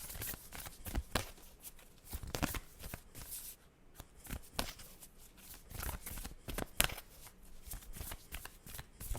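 Tarot cards being cut and shuffled, with a steady run of close, crisp riffling and flicking bursts of card against card and no talking.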